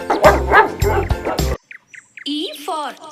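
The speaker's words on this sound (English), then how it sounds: "D for dog." A few short dog barks in a children's alphabet phonics song follow a sung line, sounding clipped and fairly loud against a quiet gap.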